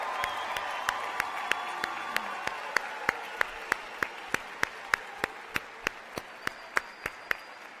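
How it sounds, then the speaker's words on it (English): Graduation ceremony crowd for the class of 2022 at Gwendolyn Brooks, heard as a low wash of distant applause under a steady, evenly spaced series of sharp clicks running throughout. "Let's give it one more round of applause for the class of"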